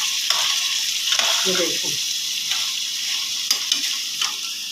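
Meat and potato curry sautéing in oil, a loud, constant sizzle with occasional stirring scrapes, while someone says a few words briefly.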